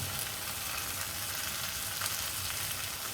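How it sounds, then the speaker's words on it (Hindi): Steady, loud sizzling as a curd mixture hits a hot pan while cooking paneer do pyaza, a continuous frying hiss with no talking. "अब ये जो कर्ड का मिक्सचर है वो मैं डाल रही हूँ।"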